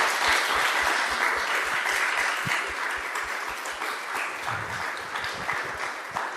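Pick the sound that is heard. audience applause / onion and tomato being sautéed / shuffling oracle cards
audience applause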